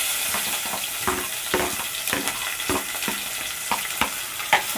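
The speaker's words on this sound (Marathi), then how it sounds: "त्यामध्ये आपण आता कांदा आणि कढीपत्ता घालून घेऊया" Onion and curry leaves hit hot oil with browned garlic for a masoor dal with bottle gourd, giving a loud continuous sizzle broken by repeated scraping stirs and crackles.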